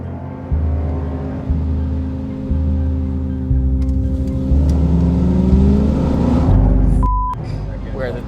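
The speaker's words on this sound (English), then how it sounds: "We were driving so fast" A car speeds along a freeway with a steady engine drone, and the pitch climbs with each gear as it accelerates. Strong wind rush fills the whole stretch.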